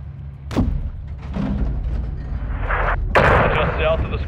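Artillery fire in the Call of Duty Modern Warfare 2 video game: two sharp booming impacts a few seconds apart, over a steady rumbling battle bed with faint voices in the background.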